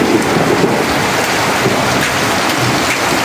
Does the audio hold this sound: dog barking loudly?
no